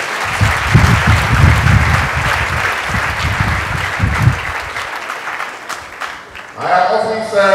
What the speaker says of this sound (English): Clap for yourselves again.